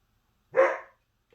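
A single short dog bark, fairly close and moderately loud, alone against silence with a faint click after it.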